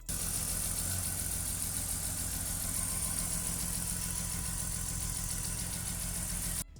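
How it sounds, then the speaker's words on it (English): A BMW E46 engine runs at a steady idle after a fuel-delivery repair, giving a constant mid-pitched hum with a faint ticking texture that stays even and close, then drops off abruptly at the very end. "I reconnected the battery and started up the car,"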